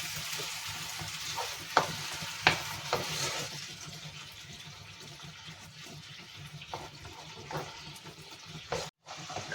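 Curd stirred into a coriander and mint rice mixture sizzles steadily in a pan, with a few sharp scrapes and clinks of a spoon over a low, continuous frying hiss.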